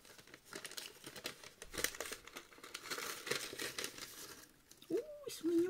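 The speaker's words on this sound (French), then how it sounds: "Et je vais ouvrir ce petit paquet intrigant." Fingers open a small paper package in fine, close crinkles and light tearing rustles that run steadily throughout, with brief soft voice sounds near the end.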